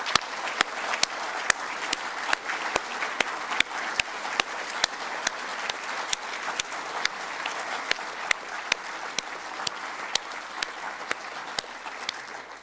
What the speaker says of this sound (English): could everybody please give Ian a huge round of applause?